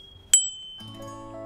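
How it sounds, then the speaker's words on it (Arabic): A bicycle bell gives a single bright ding that rings out briefly, followed by soft tonal background music. "أحب الجرس. إنه يصدر صوت رنين."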